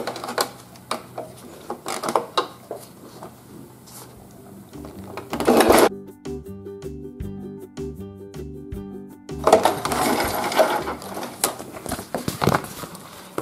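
A sewing machine stitches through the faux-leather cover of a girl's signature book with lace trim, running in rapid mechanical bursts with a steady rhythmic stretch in the middle, loud and close.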